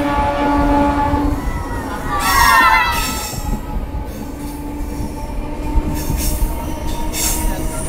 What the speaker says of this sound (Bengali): আমাদের ট্রেন এইরকমভাবেই কার্ভ লাইনের পথে ছুটে চলবে